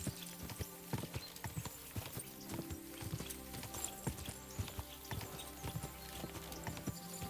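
Horse hooves clip-clop at a steady walking rhythm in the medieval video game Kingdom Come Deliverance 2, moderately close, with a brief whinny and no talking.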